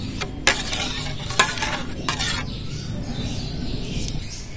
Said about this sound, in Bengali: সব রকম উপকরণ ভালো করে মিশিয়ে নেব।